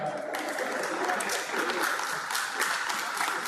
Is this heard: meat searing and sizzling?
no